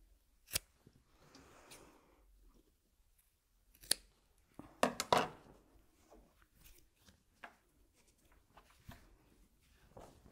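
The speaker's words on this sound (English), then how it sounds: "So just carefully snip back some of the bulk from these corners." Scissors snip through the bulky fabric corners of a quilted pillow case, a string of sharp close cuts with a dense cluster midway, alone without talk.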